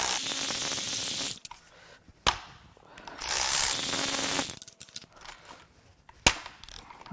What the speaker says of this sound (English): I'm gonna break my ratchet.